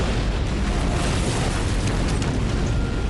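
A massive blast of explosives at a fireworks factory in Devon, England, fills the whole clip as a loud, continuous roaring rumble with crackling bursts, heard alone without any talk.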